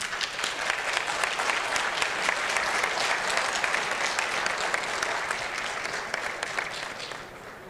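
Applause fills a hall at the IBA Extraordinary Congress, a dense, sustained clapping from a large audience that holds steady and then eases slightly at the close.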